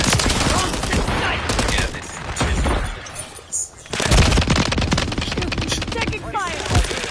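Rapid gunfire from the Modern Warfare 3 video game, loud bursts crackling almost continuously, with a short lull midway, mixed under game voices.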